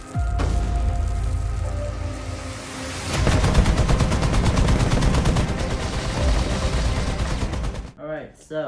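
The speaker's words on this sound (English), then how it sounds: "this one Sherman tank opened fired on the infantry using its machine guns" Rapid bursts of machine gun fire from a Sherman tank in a World War II battle, a long loud rattling stream of shots that ends abruptly in a short burst of garbled voice.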